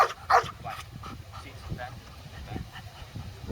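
A police K-9 unit dog gives a few sharp barks and yips at the start, then quieter whimpering noises follow, with people talking in the background.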